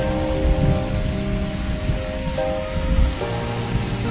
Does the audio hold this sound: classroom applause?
no